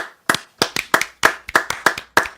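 A few people clap in close, brisk, irregular bursts, each sharp clap distinct rather than a large crowd's roar, continuing steadily for a couple of seconds with no talk.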